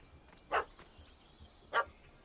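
Two short, mid-pitched dog barks in The Witcher 3, a little over a second apart, against quiet ambient background with faint bird-like chirps.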